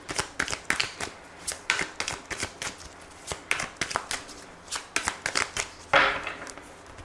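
Tarot cards being shuffled by hand at a French reading, a steady run of crisp riffling flutters and soft taps, close and moderately loud, with no talking.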